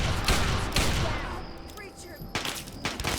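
Gunfire in the video game Fallout 3, dense bursts of rapid shots and booming blasts at the start and again at the end, with a brief lull between, loud and close with some in-game voices mixed in.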